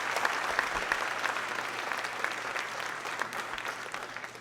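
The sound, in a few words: audience clapping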